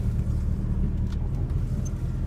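An unregistered 1990 VW Golf or 1997 Saturn SC2 engine idles and runs with a slight misfire in a driveway, giving a steady, close, loud low rumble that holds evenly throughout.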